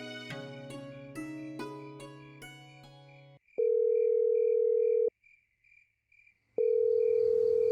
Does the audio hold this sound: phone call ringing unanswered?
yes